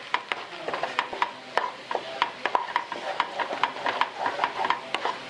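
An egg filling is stirred and fried in a pan over a low flame. A spoon scrapes and taps the pan in a busy, irregular rhythm above a soft, steady sizzle, close and fairly loud, with no talk.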